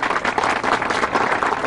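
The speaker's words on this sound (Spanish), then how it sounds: "Un aplauso para ustedes mismos." A television studio audience breaks into applause, a loud, dense burst of many hands clapping with crowd murmur mixed in, continuous across the moment.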